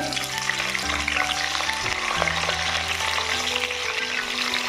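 Chili chicken gravy fries in a pan with a loud, constant crackling sizzle, close up, while steady tonal hums sit underneath the frying.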